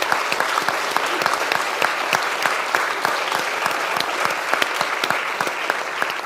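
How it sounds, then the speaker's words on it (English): An audience at a university Three Minute Thesis competition applauds the eleven finalists, a steady, evenly sustained round of clapping from a packed room with no voices over it. "So another round of applause to all of you."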